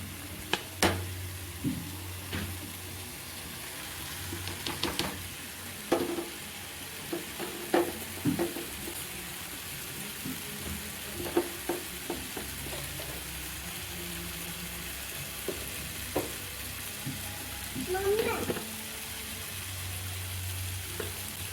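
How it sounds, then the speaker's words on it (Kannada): Fried okra sizzles quietly in a pan of spiced masala for an okra and potato curry, a soft steady crackle broken by scattered scraping clicks of stirring, with no one talking. "ಈಗ ಈ ಬೆಂಡೆಕಾಯಿ ಏನು ಫ್ರೈ ಮಾಡಿ ಇಟ್ಕೊಂಡಿರ್ತೀವಲ್ಲ ಅದನ್ನು ಹಾಕ್ಕೊಳ್ಳೋಣ"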